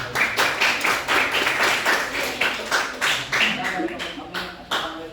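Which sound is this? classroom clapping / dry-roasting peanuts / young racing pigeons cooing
classroom clapping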